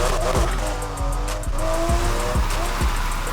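A race car in Need for Speed Heat drifts with its tires squealing in long sweeping tones over a steady loud engine drone, with repeated shifts and pulses as it slides through the corners.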